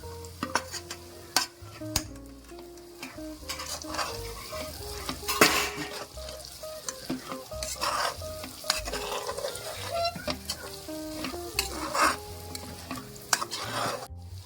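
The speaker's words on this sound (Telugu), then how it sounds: "అల్లం వెల్లుల్లి పేస్ట్ వేసి పచ్చివాసన పోయిన తర్వాత మనం ఆల్రెడీ ఆయిల్లో వేసుకున్న రొయ్యలు కూడా వేసేయాలి." Prawns stir-fried in oil with ginger garlic paste, giving a continuous close sizzle under repeated sharp scrapes and clanks of a ladle against the pan at an uneven rhythm.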